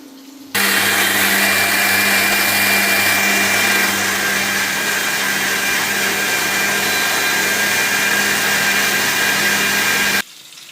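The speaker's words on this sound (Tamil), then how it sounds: "தேங்காய் சட்னி அரைச்சாச்சு." A mixer grinder whirring loudly and continuously for about ten seconds, grinding coconut chutney with garlic, ginger, dried chillies, roasted gram and salt, starting and stopping abruptly.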